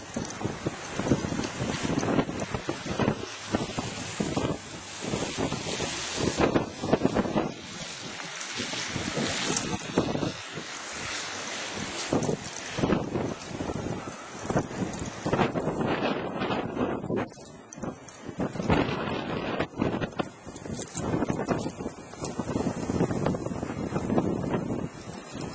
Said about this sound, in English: Blowing snow.